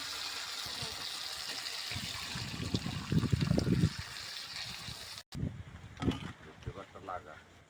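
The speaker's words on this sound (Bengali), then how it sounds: "এবার ডালটা দিয়ে দেবো, সেদ্ধ ডালটা" Boiled lentils (dal) are poured into a cooked spice mixture in a pan, giving a wet, splashing trickle that peaks partway through, with a person talking around it.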